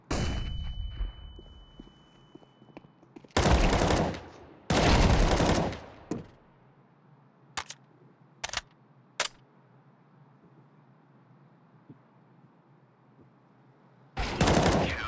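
Gunfire in a Counter-Strike match on the Overpass map: several loud bursts of automatic fire, each lasting about a second, plus sharp single shots and a final burst, separated by quiet ambience.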